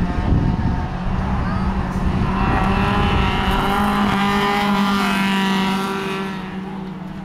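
Sedan race cars roar around the dirt track at Cullen Bullen speedway, loud engine howls rising and falling as cars pass close by, with a commentator's voice over the racing.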